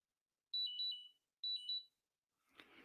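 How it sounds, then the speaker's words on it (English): An electronic device gives two quick bursts of high-pitched beeps, each a rapid warbling pair of tones, clean and fairly faint against near silence, followed by a brief rustle. "it's telling me I need to go because it's been beeping the entire time."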